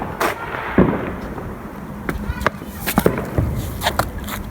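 Bonfire night fireworks crackle and bang in quick irregular bursts, some sharp and close, others softer and distant, over a noisy outdoor background with faint voices.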